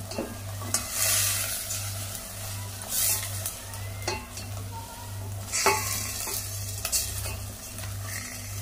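Salted fresh fish fries in a pan for a coconut-free fish curry, a steady sizzle with scraping stirs and occasional clinks of a utensil, over a low constant hum.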